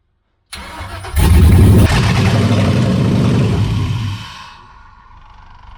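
An LS V8 fitted in an old Ford F1 truck cranks and fires for the first time, catching with a loud burst and settling into a rough, even idle before dropping away to a quieter hum.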